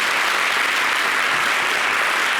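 Dense, steady applause from a studio audience packed into an overheated television studio, a continuous wash of clapping with no gaps and no voices on top.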